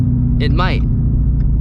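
A stock Shelby GT350 engine holds a steady, deep idle rumble, with a brief spoken remark over it.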